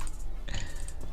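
Keys clicking on a faulty computer keyboard, a short patter of light taps at close range with no talking.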